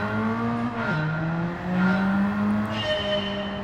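A turbocharged 4-cylinder engine in a racing video game revs close and loud, its pitch dropping at a gear shift and then climbing again with a steady buzzy tone.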